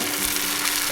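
Kanom krok, a Khmer rice cake snack, sizzles steadily as the batter cooks, a close, even frying hiss with a faint hum underneath and no talking.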